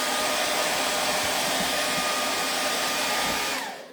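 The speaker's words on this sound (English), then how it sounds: "I'm going to take my hair dryer and I'm going to blow this off." A hair dryer blows with a loud, steady rushing whoosh close by, blowing dust off a star yard stake, then cuts off abruptly near the end.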